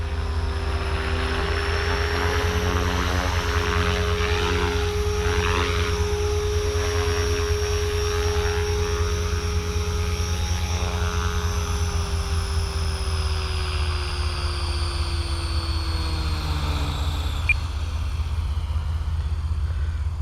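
A Blade 500 3D RC helicopter flies steadily with a loud, sustained whine of rotor and motor, its pitch drifting slightly as it maneuvers, constant throughout.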